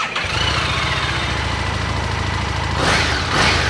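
A pre-owned Harley-Davidson motorcycle fitted with a stock exhaust starts up and settles into a loud, close, steady idle with an even lumpy rhythm and a brief throttle rise near the end, with no speech.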